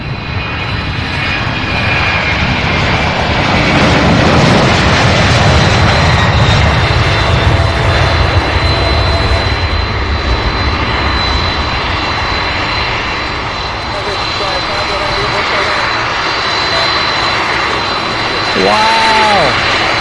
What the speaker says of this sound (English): Heavy Boeing 747 up to your last runway 17 right